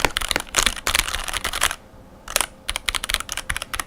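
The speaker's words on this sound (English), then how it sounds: "You can probably tell it sounds lubed, but it sounds like a thin lube sound." Fast typing on a mechanical keyboard lubed with a thin spray lube, with a light, slightly damped clack, in bursts broken by a short pause; close and fairly loud, no talking.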